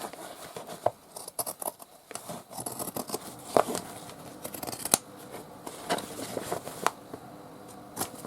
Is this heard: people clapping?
no